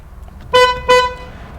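Two short honks from an old Volkswagen Beetle horn, a nasal buzzing toot repeated quickly, loud and close.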